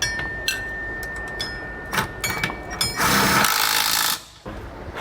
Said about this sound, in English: now we'll run them down with our 3/4 inch socket and wrench